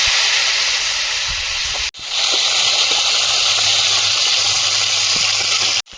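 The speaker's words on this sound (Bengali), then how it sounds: "আলুটা দিয়ে দেবো" Potatoes dropped into hot oil in a kadai give a loud, continuous hiss and sizzle, cut off by two brief gaps, close by and with no talk.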